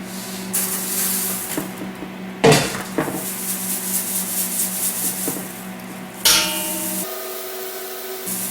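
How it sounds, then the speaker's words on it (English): Dehydrated garden cabbage is rubbed through a small-holed sifter, giving a dry, gritty scraping hiss in repeated strokes, with a couple of louder rustling bursts and sharper knocks. "I'm going to rub it in there and just rub it through here."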